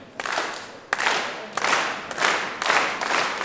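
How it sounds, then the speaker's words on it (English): Live crowd at a professional wrestling show clapping in rhythmic bursts, with loud swells every half second or so and a steady roar of cheering underneath. "Crowd getting behind Dereiss as he picks Kafka up, back up to his feet."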